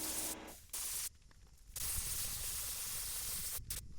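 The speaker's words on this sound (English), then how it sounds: "I'm going to spray plastic primer over all of these before we start painting" Aerosol plastic primer sprays onto ABS four-wheel-drive panels in steady hissing bursts, with a short pause and a few brief breaks between passes, close to the microphone.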